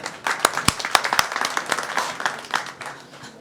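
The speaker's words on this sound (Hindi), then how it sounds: "पुरजोर तालियों के साथ" An audience at a Multan Tax Bar Association oath-taking ceremony claps to welcome a speaker. Sharp individual claps stand out over a steady patter of hands for the whole short stretch.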